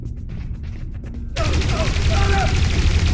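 Gunfire in the game Dreamfall Chapters erupts into a sustained, loud burst of shots after a quieter opening, continuing densely to the end.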